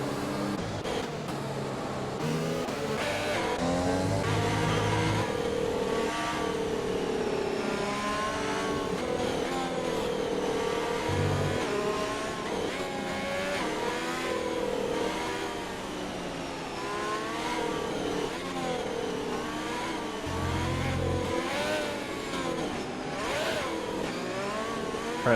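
Race cars in a racing video game, on a Brazil circuit, run in a pack behind a safety car, engines droning and revving continuously as they weave to warm tyres and brakes, with no talk over them.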